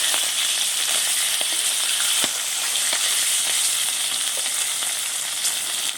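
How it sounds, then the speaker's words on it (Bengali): Fish fries in plenty of oil with a loud, constant close sizzle and crackle, with scattered pops and a few faint stirring clicks. "একটু তেলটা আজকে বেশি পড়ে গেল মাছ ভাজায়।"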